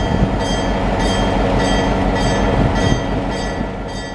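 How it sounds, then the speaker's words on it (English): An old GP10 diesel locomotive throttles up, a loud, steady engine roar with a dense low rumble and a tonal whine that pulses in regular pulls, close by and alone. "this is one of the best throttle ups from this old GP10 that I think I've ever heard"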